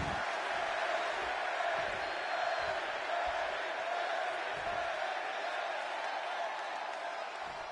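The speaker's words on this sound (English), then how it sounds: "And just listen to this crowd here in Chicago." A dense arena crowd roars steadily in WWE 2K26 during a CM Punk versus Eddie Guerrero match in Chicago, a constant wash of cheering with no pauses throughout.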